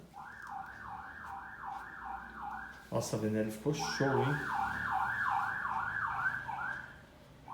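A street guard's vehicle sounds a repeated warbling electronic signal from across the road, cycling rhythmically for several seconds, pausing, then starting again, with a person talking nearby over it.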